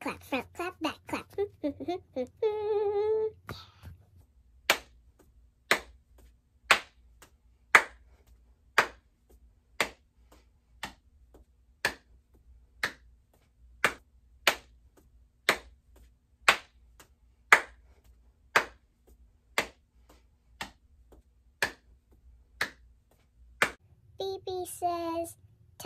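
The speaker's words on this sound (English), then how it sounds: "front clap, back clap, front clap, back clap, front clap, back clap." Regular single hand claps, alternating in front of and behind the body, ring out about once a second in a quiet room, bracketed by brief talking at the start and end.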